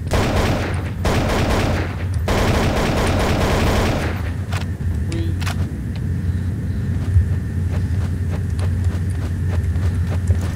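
Sniper rifle shots in Counter-Strike: Source, sharp cracks that stand out over continuous game noise and galloping, clip-clop-like ambience, with several distinct loud bangs spread across the stretch.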